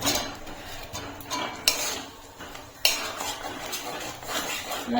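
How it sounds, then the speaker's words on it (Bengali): Potatoes added to masala in a pan and stirred, metal spoon clinking and scraping against the pan in close, irregular knocks, with a couple of sharper clanks and no talking. "আমি আলুটা দিয়ে দিচ্ছি মশলাও কষানো যাবে আলুটাও সেদ্ধ হয়ে যাবে"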